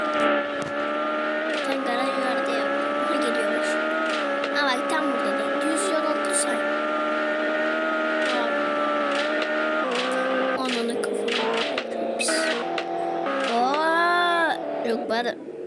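A Lamborghini in a driving video game gives a sustained, droning engine tone that shifts pitch as it revs and slows, with brief squeals and bumps, while a person talks over it.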